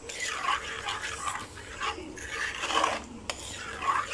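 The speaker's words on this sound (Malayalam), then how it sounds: "നമുക്കിത് ഇളക്കി കൊടുക്കാം" A utensil stirs beetroot kichadi in a pan, making steady scraping and rubbing sounds with soft clinks against the metal, moderately close and continuous, with no talking.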